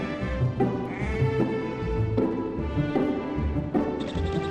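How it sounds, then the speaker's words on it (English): Sheep bleat in a farm field in spring, with a few drawn-out, wavering calls close by, one after another, and no talk. "running around the field with his sheep"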